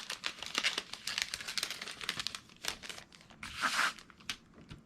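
A small plastic bag crinkles close and quiet as paper embellishment pieces are slipped inside, with irregular rustles and a brighter burst of crackling near the end.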